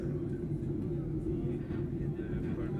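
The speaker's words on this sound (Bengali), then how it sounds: "আমি বিমানের মধ্যে বসে আছি।" Inside an airliner cabin in flight between Singapore and Bangladesh, a steady low engine and air drone fills the space evenly and without a break.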